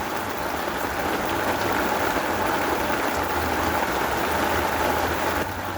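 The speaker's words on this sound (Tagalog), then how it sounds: "Umuulan." Steady rain falls on a rooftop, a dense, even hiss of droplets with a low rumble beneath, continuous and fairly loud throughout.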